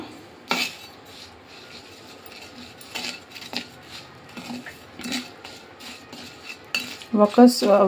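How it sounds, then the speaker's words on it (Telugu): Mustard powder, salt and turmeric being stirred together for mango pickle, with a spoon clinking and scraping against a metal bowl in scattered bursts, growing busier and louder toward the end. "ఇప్పుడు ఇవన్నీ బాగా కలిపేసుకుందాము."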